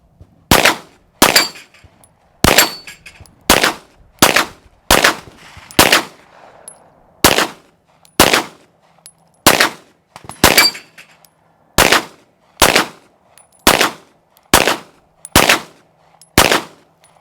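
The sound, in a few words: CZ TS 2 pistol gunshots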